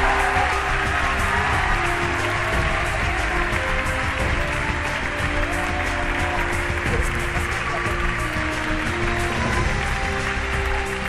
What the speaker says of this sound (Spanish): Por favor, démosle un fuerte aplauso a los 8 finalistas de Ópera Prima en Movimiento.